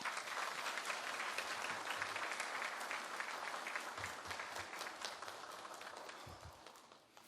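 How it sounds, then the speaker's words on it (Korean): Church congregation applauding throughout to welcome the pastor at a Sunday service, a dense, steady wash of clapping that holds for the whole stretch and only slightly eases toward the end. "우리 목사님 나오실 때 박수로 좀 환영할까요?"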